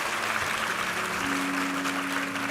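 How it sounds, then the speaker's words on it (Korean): A congregation at a Korean Sunday church service applauds, a dense wash of clapping that keeps up steadily, with a faint sustained tone underneath. "우리 하나님께 감사와 영광의 박수 올려드리겠습니다"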